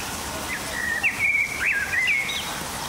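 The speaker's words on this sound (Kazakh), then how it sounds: "бақшасында сайрап тұрған бұлбұлы" A nightingale sings in a home garden, giving a string of clear, high whistled notes and quick rising chirps over a quiet background, fairly close and with no one speaking.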